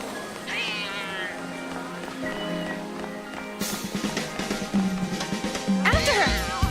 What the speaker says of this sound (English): But that's just a cat.